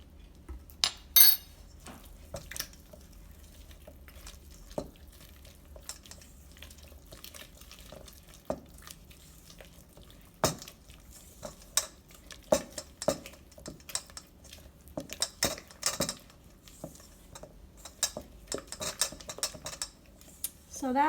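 Brown butter frosting for banana bars is mixed in a bowl, with a utensil scraping and clinking against the sides in irregular bursts, fairly quiet with gaps between strokes.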